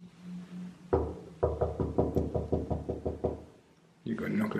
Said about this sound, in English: You gotta knock like you're the feds